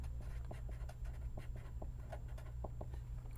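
Chalk or marker scratches against a board in short, irregular strokes and taps as words are written during a statistics lecture, close and fairly quiet over a low room hum.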